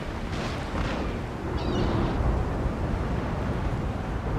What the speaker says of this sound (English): Here's my frigates out, and I'm firing on his frigate.